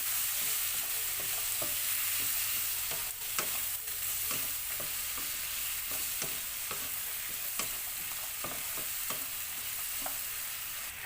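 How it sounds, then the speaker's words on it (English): Butter sizzles loudly in a pan while being stirred, a dense continuous frying hiss with frequent small scraping ticks from the utensil, close by and with no talking. "We'll add some butter. And then saute."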